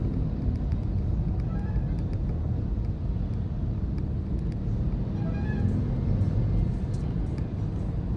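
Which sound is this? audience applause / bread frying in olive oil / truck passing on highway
truck passing on highway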